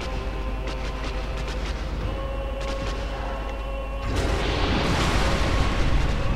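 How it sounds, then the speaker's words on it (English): An explosion in the Dark Souls video game goes off, a sudden loud burst of noise that swells and rumbles on, following a stretch of quieter game ambience. "There, that's the one, that's the explosion."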